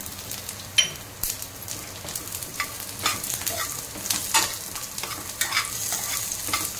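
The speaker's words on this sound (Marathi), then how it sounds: "चांगलं तेलात भाजून घ्यायचं आहे" Cumin seeds roasting in hot oil give a dense crackling sizzle, with scattered spatula scrapes and stirring knocks throughout, close and fairly loud, with no talking.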